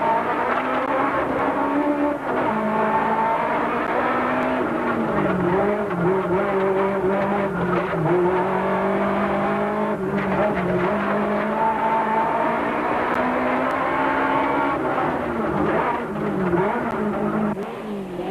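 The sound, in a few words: onboard Volkswagen rally car on muddy forest stage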